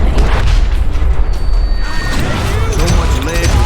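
A deputy's shotgun fires during a gunfight in the town of Lincoln in the Call of Juarez: Gunslinger game. Loud, dense booms and crashing blasts fill the clip under a narrating voice.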